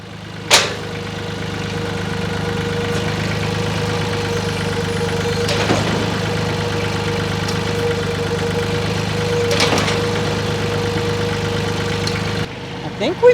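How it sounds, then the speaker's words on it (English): A tractor engine cranks and settles into a steady low idle, with a faint rhythmic knock and a few sharp clanks, heard alone at moderate distance for over ten seconds. "All right, let's crank up the tractor and see if it leaks now."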